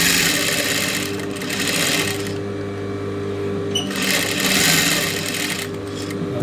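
A sewing machine stitches the neck design on a silk skirt, running in two long bursts of fast, close, whirring rattle with a softer, steadier hum between them and no talking.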